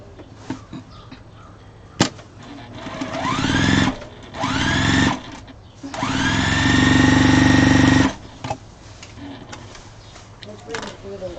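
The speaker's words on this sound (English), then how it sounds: "So I'll sew it to this." A sewing machine stitches fabric scraps together into yardage, running in several loud, close bursts of steady whirring that rise in pitch as each one starts, with short pauses and soft handling noises between them.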